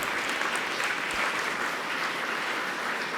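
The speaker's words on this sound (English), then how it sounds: "Give him a round of applause." Conference audience at a Python programming talk giving steady, even applause for the speaker, a dense wash of many hands clapping that holds at the same level throughout.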